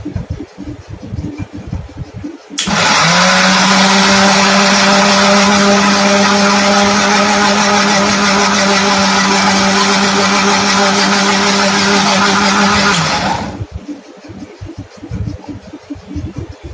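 A kitchen mixer grinds idli batter, starting abruptly and running loud and steady for about eleven seconds with a constant whining motor hum, then stopping, with quiet clattering before and after.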